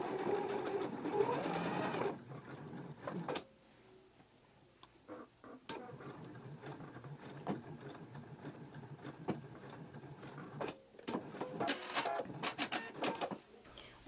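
A home sewing machine topstitches the fronts of Vogue 9008 women's shorts, pivoting into a large pleat circle, in short stop-start bursts of whirring stitching with brief pauses and handling clicks between runs, close by.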